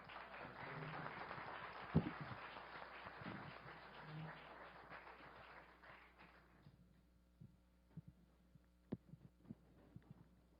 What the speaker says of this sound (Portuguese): Gostaria de encerrar com um aplauso generoso para o nosso palestrante.